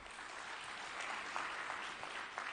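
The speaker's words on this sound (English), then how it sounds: "Let's give him a round of applause." Applause from an audience at a closing ceremony of a food sovereignty conference in Dakar, a steady, fairly faint wash of clapping with a few sharper individual claps standing out.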